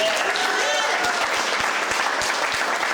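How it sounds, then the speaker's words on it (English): Crowd applause at a political campaign grand opening, steady clapping from a gathered audience with a few sharper individual claps and some voices mixed in underneath. "So thank you. Round of applause."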